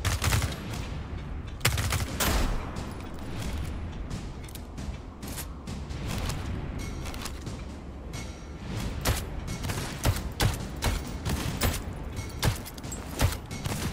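Shotgun blasts from a first-person sci-fi shooter demo, Moon Mystery, fire as dense, loud repeated gunfire with booming impacts, mixed with other combat noise over about fourteen seconds.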